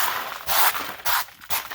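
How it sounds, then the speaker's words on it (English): Dirt being scraped away under a 2017 Subaru Outback during an oil change, four short bursts of harsh close scraping with brief pauses between. "Excuse the noise, we just had to scrape a bunch of dirt out of the way."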